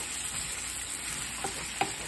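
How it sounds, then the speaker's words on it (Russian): Liver fries in a pan with a soft continuous sizzle, faint and close, with a couple of small clicks of stirring near the end. "пока я готовлю печень"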